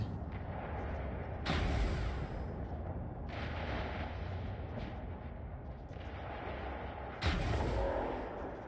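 Ship weapons fire in the space combat game Elite Dangerous, heavy booming artillery-like shots bursting out at intervals over a continuous low engine rumble, loud and close with no talking.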